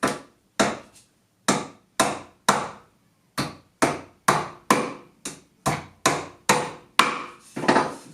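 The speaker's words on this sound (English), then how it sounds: "Now we take our hammer" Nails are driven by hammer into a small wooden box, about fifteen sharp, loud blows in an uneven rhythm with brief gaps between them, close and alone.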